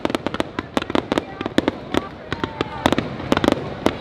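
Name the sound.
fireworks going off at Universal Studios nighttime show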